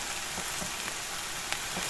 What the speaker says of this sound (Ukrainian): Поки синенькі підсмажуються, вже можна перший раз перемішати і одночасно перемішається і перчик.